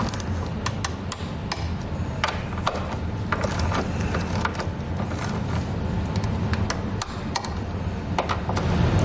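Socket wrench with a 15mm socket tightening trailer hitch hardware on a vehicle, producing a continuous run of close, rapid ratcheting clicks with occasional heavier knocks.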